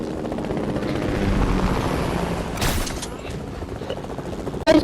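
A helicopter in a shooting video game makes a steady close rotor drone with gunfire-like pops near the end, while players talk over it.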